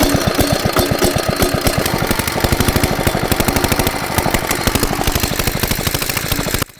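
A water pump engine being started beside a pond, filled with fuel beforehand, chugging loudly and close in a fast steady rapid knocking rhythm that runs continuously before cutting off abruptly at the end.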